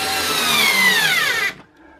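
A power drill whirs steadily for about a second and a half as it drives a screw into plasterboard during a drywall patch, close and loud, then cuts off abruptly.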